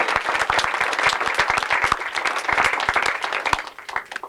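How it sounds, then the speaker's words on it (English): Wedding guests applaud a church choir at a wedding reception, dense nearby clapping from a room full of people that holds steady before thinning into scattered final claps. "I think a round of applause because they were superb."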